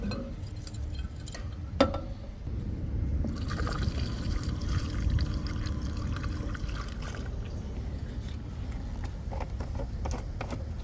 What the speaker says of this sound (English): we're just going to let the pot fill up with water